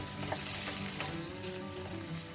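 Chicken stir fry, the meat still partly frozen, sizzles steadily in a pan over heat cranked fully open, a dense continuous crackle and hiss with no talk.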